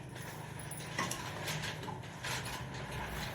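Sewing machine stitching pleats into a saree, a steady close mechanical whir with faint clicking running throughout at low level, with no voices.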